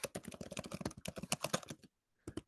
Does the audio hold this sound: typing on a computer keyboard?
yes